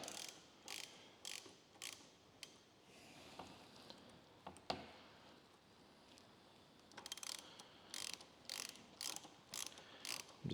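Ratchet tightening crash protection bolts on a Ducati Desert X, quiet clicking strokes in short rhythmic bursts with a pause in the middle, close but faint.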